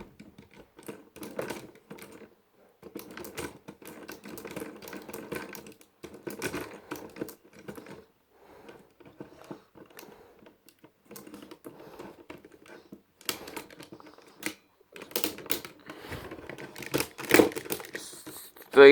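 A Transformers Armada Galvatron toy is turned around by hand, giving bursts of quick plastic clicking and ratcheting with short pauses between them, close and fairly quiet.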